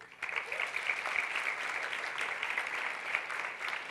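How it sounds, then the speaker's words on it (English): An audience at the Fairmont Hamilton Princess gives a round of applause, a steady, fairly faint wash of clapping that holds evenly for several seconds. "Give her a round of applause right quick."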